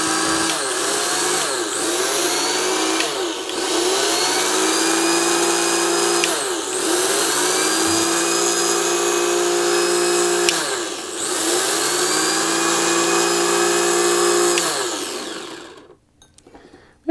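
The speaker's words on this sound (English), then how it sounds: "This literally is a rolling dyno for a slot car." Slot car running on a rolling dyno, its small electric motor whining steadily at high pitch. The whine dips and recovers several times in a loose rhythm, then cuts off near the end.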